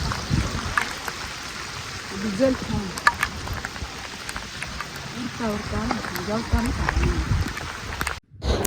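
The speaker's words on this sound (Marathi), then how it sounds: "बघा मस्त पाऊस पडतोय, त्यात जेवतोय" Steady rain falls over a farm field bund in rural Konkan during monsoon paddy planting, a dense continuous patter throughout, with people talking over it.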